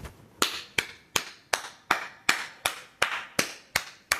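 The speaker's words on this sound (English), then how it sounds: "We can just clap our hands or use shakers." Hands clapping alone in a slow, even rhythm, ten sharp claps spaced about a third of a second apart, close and crisp with short decays.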